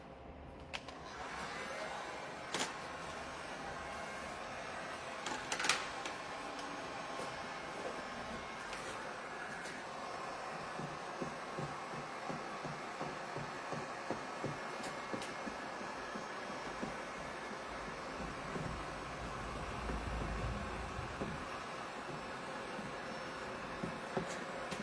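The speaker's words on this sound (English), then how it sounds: "So I'm gonna get my heat gun and rub it up against there." A heat gun shrinking window tint on a car's back door gives a steady, airy blowing hiss close by. It runs unbroken for the whole stretch, with faint clicks and handling noises and no talk.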